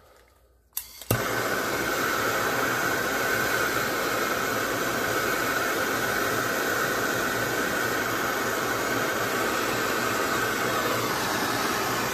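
A handheld heat source roars steadily and loudly after a brief click, heating the soldered joint of a homemade CB antenna ground cable for about eleven seconds without a break.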